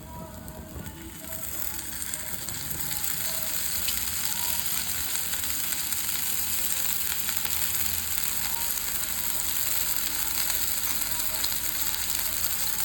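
Homemade paneer breakfast pieces fry in oil in a pan, giving a loud, continuous sizzle close up that builds within the first couple of seconds and then holds steady.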